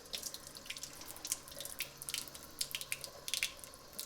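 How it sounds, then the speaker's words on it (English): A kitchen tap runs steadily as a freshly cleaned razor clam is rinsed under it, with close, fluttering splashes that rise and fall and no talk. "Go ahead and give that a rinse."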